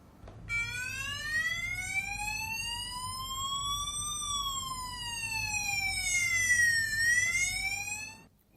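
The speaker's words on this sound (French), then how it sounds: "Rentrez votre code PIN et l'alarme va retentir." A home security device's alarm siren wails continuously, a loud electronic tone sweeping slowly up and then down with bright harmonics, steady for the whole stretch before cutting off abruptly.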